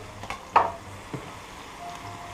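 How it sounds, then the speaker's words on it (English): Garlic going into softening onions in a pan for French onion soup: one brief sizzle and stir at the start, a fainter scrape after it, then a low quiet simmer. "I'm going to add my garlic and mix that in"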